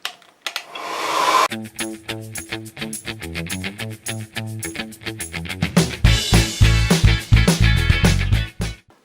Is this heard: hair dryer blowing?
yes